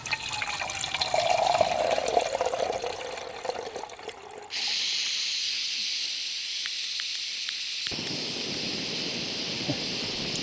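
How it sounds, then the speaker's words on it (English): A heavy rain shower on a coastal walking route pours down steadily, a dense hiss that swells and then settles into a constant roar, close and loud, with no talking. "Another heavy shower rolling in."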